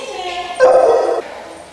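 Trained dog singing on command, a single drawn-out, whining howl lasting under a second, loud and close, with a person's voice around it.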